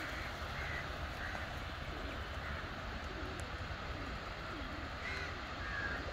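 Crows cawing in Lal Bagh gardens in Bangalore, scattered calls at a distance over a steady outdoor background hum.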